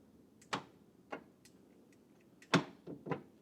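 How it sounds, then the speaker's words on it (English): Central locking relays in a 2002 BMW E46 click inside the car as the lock button is pressed, several sharp dry ticks spaced irregularly, some doubled, close and fairly quiet over a low background hum. "if I do the same thing with the central lock button, you can hear the relays"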